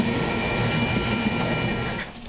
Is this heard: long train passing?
yes